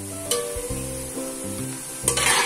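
Onions and garam masala cook in a hot pan for aloo pulao, giving a steady close sizzle with a few brief sharper crackles and a low tonal hum running underneath.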